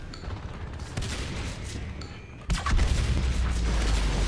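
Video game gunfire in a Natural Selection 2 competitive match, rapid bursts of shots with booming impacts, growing louder and denser about halfway through.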